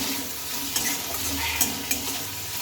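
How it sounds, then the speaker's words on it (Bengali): Drumstick leaves fry in a pan with a dense, steady sizzle, punctuated by a few light clinks of a stirring utensil against the metal. "দেখো এবার এইভাবে কিন্তু কিছুক্ষণ তোমাদেরকে ভালোভাবে নাড়তে থাকতে হবে"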